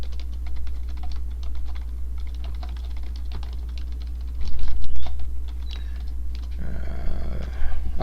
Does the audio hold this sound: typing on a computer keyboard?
yes